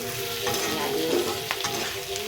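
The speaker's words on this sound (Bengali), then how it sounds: "তো আমি আলুর সাথেই ভেজে নিচ্ছি।" Potatoes and onion frying together in a pan, a close continuous sizzle with soft stirring scrapes and a few brief clicks, no voices.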